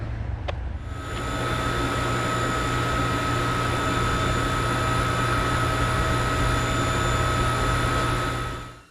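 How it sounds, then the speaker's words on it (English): A propane heater burns steadily on its high setting, giving a loud, constant roar with a faint hum and a faint click near the start, and no voices. "we got the old propane heater running now. Got her on high."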